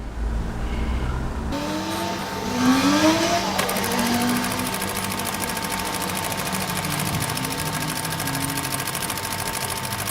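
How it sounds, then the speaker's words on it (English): A sewing machine, an overlocker fitted with a ball needle, runs a line of stitching through a sweatshirt panel, giving a steady, close, continuous whirring hum after a brief start-up. "just run a line of stitching through the middle of your overlocker"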